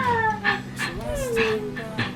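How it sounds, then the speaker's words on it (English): Small dogs whimper and whine in rising and falling high-pitched cries during play, with short yips in between, close and moderately loud. "I play with my dogs for a little bit just because they need all that extra love and attention."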